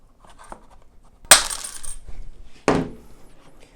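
Wire is snipped off with cutters while building a foam model airplane, two sharp close clicks about a second apart over a quiet room.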